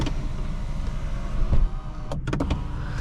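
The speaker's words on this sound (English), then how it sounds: "We have an automatic shade for the sunroof" The automatic sunroof shade on a BMW 530i xDrive slides open with a short electric motor whir inside the cabin, followed by a few quick clicks and thumps as it stops.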